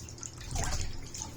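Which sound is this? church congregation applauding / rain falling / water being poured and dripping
water being poured and dripping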